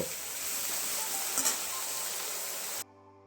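Kochur loti (taro stolons) fry with a spice paste in a pan, a steady close hiss with a brief clatter of stirring midway, then the sound stops abruptly.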